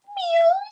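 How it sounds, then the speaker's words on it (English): A small house cat gives a single short, cute meow, close and clear with a rising then falling tone, with no talking over it. "And then these cute little like meows"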